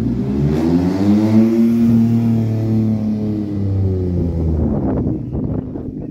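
Rally cars at Rally Hornillos 2024 storm past at high speed. A loud engine note climbs and then falls as they go by, with revving and a rumbling fade into scattered crackles at the end.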